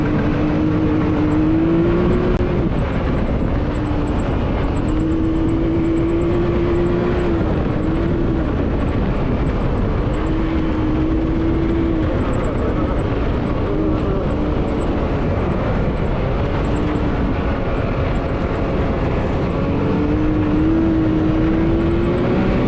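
A 2021 Can-Am X3 DS 64-inch Turbo RR two-seater races fast across Dumont Dunes, its turbo engine droning loud and close with a steady roar and rising and falling revs as it accelerates and shifts.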